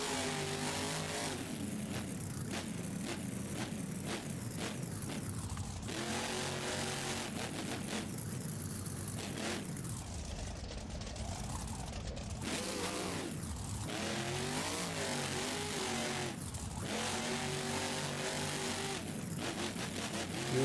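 The Monster Mutt monster truck in the BeamNG video game revs its engine over and over, bursts of throttle rising and falling continuously at close range with no voices.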